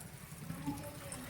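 Heavy rain pours down in a village, a steady wash of water noise with small splashy fluctuations and a faint voice in the background.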